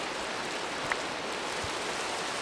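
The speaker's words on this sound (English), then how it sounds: "it looks like it is now raining" Steady rain hisses as broadband noise in Minecraft, a continuous even wash of falling water with one faint tick partway through and no speech.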